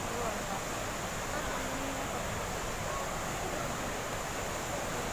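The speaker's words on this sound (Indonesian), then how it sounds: "Ini masih bawahnya, puncaknya di sana." Tanggedu waterfall on Sumba island, Indonesia, seen from its lower section, gives a constant, even rushing roar of falling water with faint voices in the mix.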